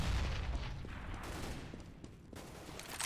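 A flashbang grenade bursts during a CS:GO match on Overpass, a loud broadband blast that fills the clip from the start and then decays into a noisy, ringing wash, with a second sharp pop near the end.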